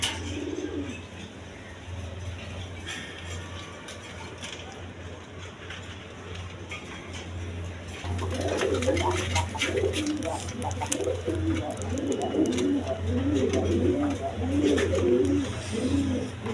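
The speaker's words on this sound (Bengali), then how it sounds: "এখানে এক পেয়ার গররা কবুতর আছে" A pair of pigeons at a pigeon farm coo in low, throaty bursts that grow louder and more frequent midway, with faint background noise throughout.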